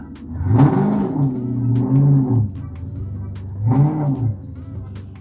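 A 2004 Ford Mustang GT V8 revs in two bursts as the car is moved, each rising to a loud rumbling roar and then easing back, heard up close.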